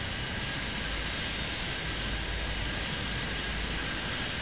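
A descending airplane in an air traffic control video game, a steady broadband engine roar that holds constant and loud throughout with no talking.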